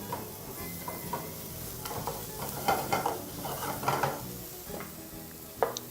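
Chicken fried rice with onions is tossed and stirred in a hot oiled pan, steady sizzling broken by scraping and shuffling strokes, close up and without speech.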